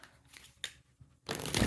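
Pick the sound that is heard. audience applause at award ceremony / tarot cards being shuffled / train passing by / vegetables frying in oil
tarot cards being shuffled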